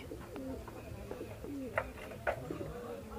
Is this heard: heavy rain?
no